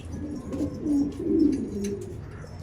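Domestic pigeons in a loft give low, rolling coos, two or three swelling calls rising and fading nearby, with faint rustling and a few soft clicks behind them.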